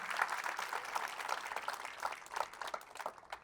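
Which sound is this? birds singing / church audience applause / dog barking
church audience applause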